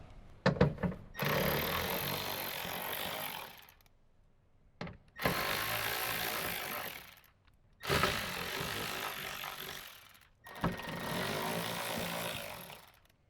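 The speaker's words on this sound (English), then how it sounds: "use a Phillips head screwdriver or a 10mm socket to remove the 4 bolts around the outside" A power screwdriver or socket driver removes bolts from a Toyota Tundra speaker in four separate bursts of whirring, each a couple of seconds long with short gaps, close up and moderately loud.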